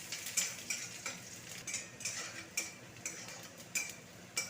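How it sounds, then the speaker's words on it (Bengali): Chopped onion fries gently in oil seasoned with dried red chilli and nigella seeds, making a faint, soft sizzle broken by regular light clicks of a spatula stirring the pan. "এরপরে কুচনো পেঁয়াজ দিয়ে দেবো। পেঁয়াজটাকে ভেজে নেবো হালকা একটু।"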